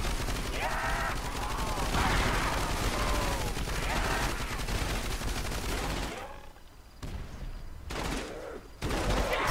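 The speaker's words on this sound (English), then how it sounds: "I'm about to run out of ammo on my Browning." Rapid bursts of Browning gun fire in a Roblox zombies shooter, loud and sustained for several seconds, then breaking into shorter volleys amid in-game noise with some voices underneath.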